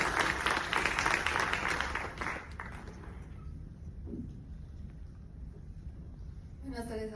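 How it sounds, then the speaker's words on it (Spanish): Audience applause at a Mexican economics forum, steady clapping for about two seconds that fades into quiet room tone before a brief sound near the end. "Un aplauso, por favor."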